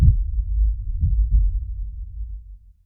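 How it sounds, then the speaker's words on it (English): Slow, heavy heartbeat in an audio drama, deep muffled low thuds pulsing steadily for about three seconds before fading out, with no voices. "A slow, heavy heartbeat soothed him as he lay there"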